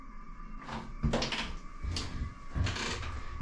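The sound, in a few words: cruise cabin shower door swinging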